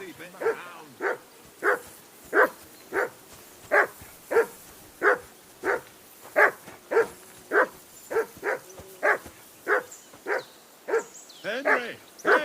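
A hound in Kingdom Come Deliverance 2 barks again and again in a steady, evenly spaced rhythm, about twenty sharp, close barks with brief pauses between them, the last few rougher and more whining.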